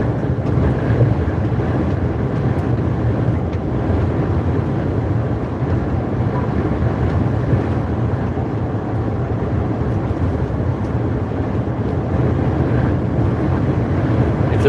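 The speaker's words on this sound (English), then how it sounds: "It's a wee bit windy." Steady, roaring wind buffeting the microphone in a truck cab, continuous and loud throughout with a low rumbling texture and no pauses.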